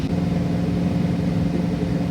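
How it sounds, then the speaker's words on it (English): Deep, steady exhaust rumble from a 1967 Ford Mustang fastback running, a constant close engine drone with no voices. "That exhaust is badass. Sounds like a different car."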